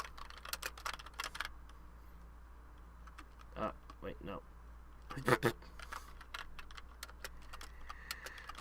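Computer keyboard typing comes in short clusters of clicks and taps at low level in a quiet room, with a brief spoken remark in between.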